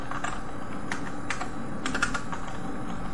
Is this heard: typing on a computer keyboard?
yes